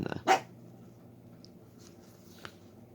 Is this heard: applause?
no